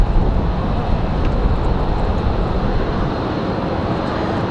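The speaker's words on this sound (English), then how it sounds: "So we got a Delta headed out to Atlanta." Low, rumbling engine roar from a Delta airliner departing Raleigh-Durham for Atlanta, loud and continuous, mixed with windy outdoor noise and no voices.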